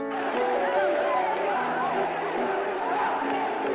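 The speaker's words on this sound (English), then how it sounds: "When news of the invasion reached Buenos Aires, the crowds went wild." Crowds in Buenos Aires celebrating news of the Falklands invasion: a loud, continuous roar of many voices shouting and cheering together, with a constant babble and no pauses.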